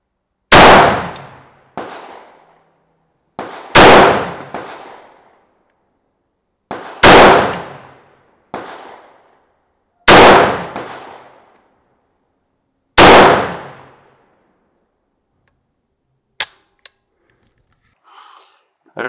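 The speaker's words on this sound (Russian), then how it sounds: "сейчас он покажет, на что этот карабин способен при стрельбе на большие дистанции" Loud, sharp gunshots from a TG2 Magnum Kalashnikov-type carbine, five spaced single shots each ringing off with a short echo, followed by a few faint clicks.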